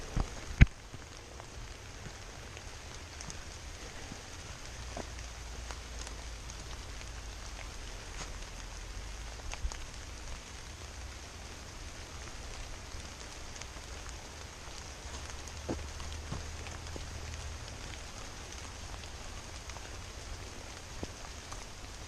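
Rain falling during a hike near Jim Thorpe, Pennsylvania, a soft, even patter of drops on leaves and surfaces with a low outdoor rumble underneath and a sharper tap near the start, no talk.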